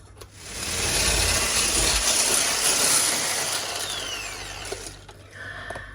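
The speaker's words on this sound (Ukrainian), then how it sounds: "Тож, збиваємо до біла." Electric hand mixer beating eggs and sugar until pale for a plum cake, a loud continuous motor whir that holds steady for about five seconds before easing off, with no talk over it.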